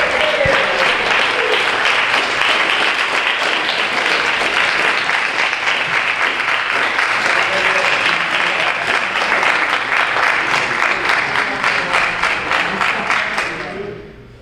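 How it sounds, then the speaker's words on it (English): A large audience at a family and friends memorial gathering applauds in sustained, dense clapping for about fourteen seconds, steady and loud throughout before tapering off quickly at the end. "could we have a round of applause for David and Vicki?"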